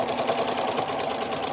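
Sewing machine stitching a quilt block, rapid steady mechanical whirring with an even fast pulse of needle strokes, loud and close, with no voices.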